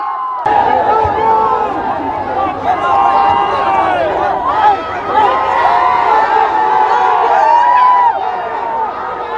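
A large crowd at a film trailer event applauds and cheers for actor Yash, a loud roar of excited voices and shouts with clapping underneath, sustained for several seconds with chatter mixed in.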